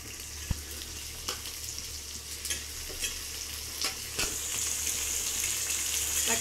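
Tomatoes sizzle and fry in a pan as part of a puli keerai kulambu, a steady close crackling hiss with occasional stirring scrapes, the sizzle building a little louder toward the end, with no voices.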